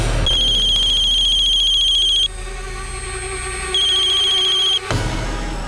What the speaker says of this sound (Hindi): अननोन नंबर से फोन है सर। फोन उठा भाई